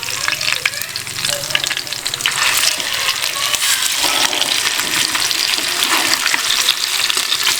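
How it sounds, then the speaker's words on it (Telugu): Masala-coated fish pieces fry in a hot pan just after being flipped, giving a loud, steady, crackling sizzle that runs unbroken throughout. "పీసులు ఇంకో సైడ్ మారేసుకుంటా."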